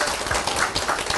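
Applause from a rural town-hall audience, a dense steady patter of many hands clapping together, moderately loud and continuous throughout the short stretch with no voices over it.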